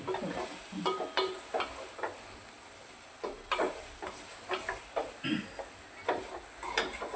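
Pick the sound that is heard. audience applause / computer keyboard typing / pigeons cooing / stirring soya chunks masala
stirring soya chunks masala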